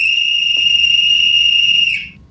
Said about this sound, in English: It also whistles whenever your time limit's up.